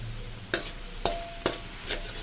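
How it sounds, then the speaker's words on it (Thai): Chicken curry in coconut milk is stir-fried over high heat, a faint bed of sizzling broken by four sharp scraping strokes of a utensil against the pan at roughly half-second intervals. "แล้วก็ผัดไปเรื่อย ๆ"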